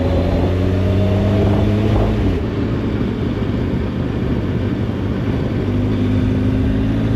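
A 1996 Suzuki 1200 Bandit motorcycle engine hums at low revs in fifth gear around 40, its tone shifting once and then pulling steadily, loud and close with wind rush, no speech.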